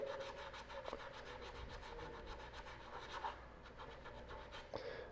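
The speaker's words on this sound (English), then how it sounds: "Sand with the grain when you're done with your sandpaper for each grit." Sandpaper rubbing over a small wood carving of a snowman, worked with the grain in steady back-and-forth rasping strokes, close but quiet, with no talking.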